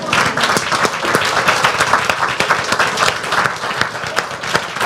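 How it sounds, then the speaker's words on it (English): An audience at a forum on graduation rates claps warmly, with individual claps distinct within a steady round of applause that continues for several seconds. "I just want a warm round of applause for"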